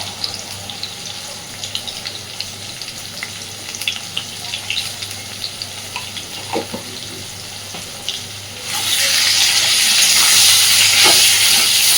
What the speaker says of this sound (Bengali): একদম লাল লাল করে আলুগুলোকে ভেজে তুলে নেব।